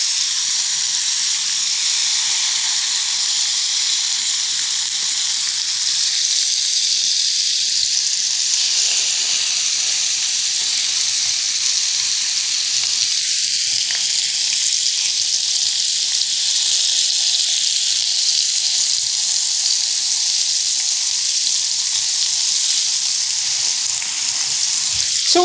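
Chicken sizzles and fries in a pan with fresh-squeezed lime juice, a loud, steady hiss and crackle that carries unbroken throughout, with no talking.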